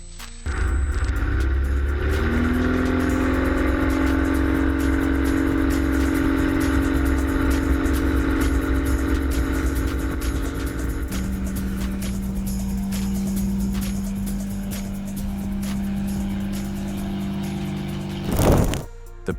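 The single-engine piston Pipistrel Panthera four-seater plane runs its engine up for takeoff: a loud, continuous drone that climbs in pitch in the first seconds, then holds steady before a short burst of noise near the end.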